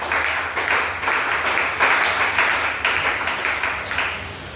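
A church congregation claps steadily and cheers in praise, a dense continuous wash of many hands that keeps up at a loud, even level from start to finish.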